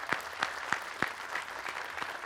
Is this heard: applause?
yes